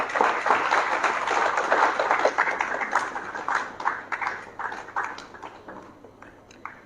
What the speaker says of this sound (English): For Rima, come on, let's give a clap.